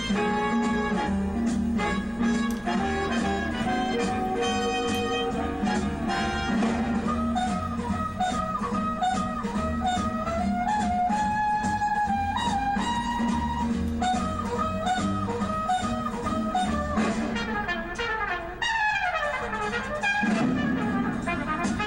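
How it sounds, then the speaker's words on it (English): A swing big band plays with brass sections trading punchy call-and-response phrases back and forth, loud and busy, with a steady rhythm underneath. "Here's some call and response. Brass."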